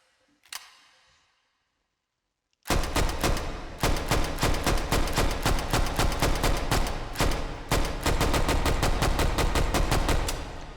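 A Grease Gun submachine gun fires in the VR shooter H3VR: one loud shot, a pause, then long bursts of heavy, evenly spaced reports at a slow, steady rate, close and very loud.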